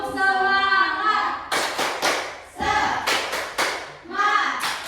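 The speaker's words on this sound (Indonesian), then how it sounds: "Kita melakukan activity ya, itu tepuk semangat." Children in a classroom do a tepuk semangat spirit clap: bursts of sharp rhythmic hand claps in quick groups, led in by a sung, chanted voice, loud and close, with voices shouting between the clap sequences.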